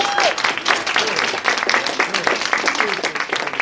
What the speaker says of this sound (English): Let's give the staff of this facility a round of applause.